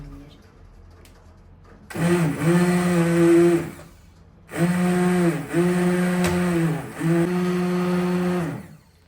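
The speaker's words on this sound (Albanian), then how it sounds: "Shmorim një blender dhe fillojmë që ta bluajmë masën mirë." An electric blender grinds a cornelian cherry and sugar mixture in three loud, close bursts, the motor whining up and settling into a steady roar, with short pauses between runs.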